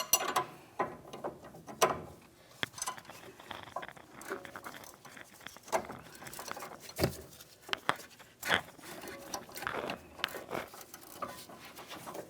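Ratcheting wrenches, a 21mm and a 10mm, tighten a front sway bar link mounting nut on a 2009-2019 Ford Flex, producing repeated close clicking strokes in uneven bursts with light clanks between them.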